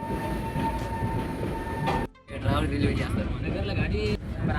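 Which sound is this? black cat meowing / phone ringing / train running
train running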